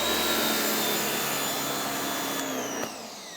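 An Active electric pressure washer with a CAT pump, rated 1850 psi and 1.4 gpm, runs as a loud, steady motor and pump drone. Near the end it sags slightly, with a brief sharp change.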